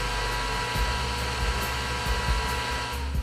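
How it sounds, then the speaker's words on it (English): A PPR 2000 PAPR respirator blower motor runs steadily, a constant close whirring hum like a hair dryer, with no voices. "The PPR 2000 motor starts automatically."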